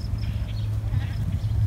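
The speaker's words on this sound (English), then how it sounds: "The sheep talking." Sheep bleat nearby on a Colorado farm garden plot in early June, a steady low-pitched bleating sustained over a constant outdoor background.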